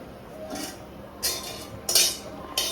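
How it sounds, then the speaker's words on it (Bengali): A metal wok (kadai) set down on a home kitchen stove while cooking lauki with fried lentils, giving a few separate clanks and clinks spaced over a couple of seconds, fairly close and moderately loud, with no talking. "আমরা কড়াইটা বসিয়ে দিচ্ছি"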